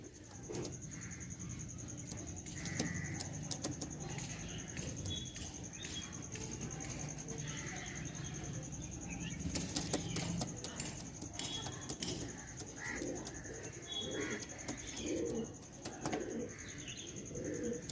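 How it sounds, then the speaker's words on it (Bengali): Pigeons settling into an unfamiliar loft, with faint cooing and scattered chirps spread through a steady, noisy background and occasional light clatter. "প্রচণ্ড প্রেশার দিচ্ছে পায়রা নতুন জায়গায়"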